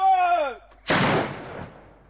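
A black powder cannon fires once at a medieval reenactment at a château, a loud close boom that rolls off into a fading echo, right after a voice shouts a command.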